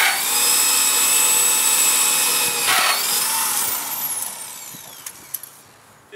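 A portable drill press whines loudly as it bores through material under light pressure at a slow rate, steady at first, then winds down and fades with a few light knocks at the end.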